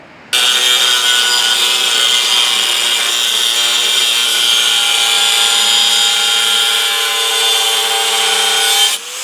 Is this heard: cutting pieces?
yes